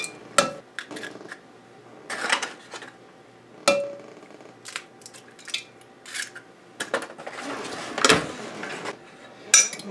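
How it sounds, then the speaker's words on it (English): Five eggs cracked against the rim of a large measuring cup make sharp, separate taps and clinks spread out over several seconds, with quieter handling noises between them. "Take a large measuring cup here. I'm going to crack 5 eggs."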